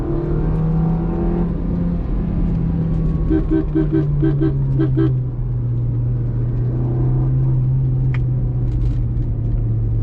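A 2020 Maruti Swift VXi petrol engine pulls hard in second gear, a loud, steady in-cabin drone whose pitch climbs and holds through the clip, with some higher rattly revving bursts midway.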